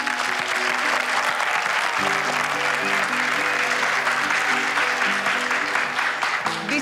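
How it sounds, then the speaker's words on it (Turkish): On a drama stage, an audience gives sustained applause, an even roar of clapping that continues throughout while sustained musical tones play softly underneath. "koskocaman bir alkış istiyorum."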